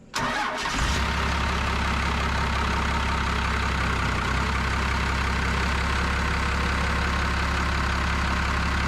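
A Cummins diesel swapped into a C30 truck cranks and catches, then settles into a steady, loud, rumbling idle that holds evenly for the rest of the stretch, with no voices.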